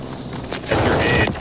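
Burst of gunfire in a team deathmatch video game, a rapid crackling volley that swells loud partway through and continues to the end, with faint background clatter before it.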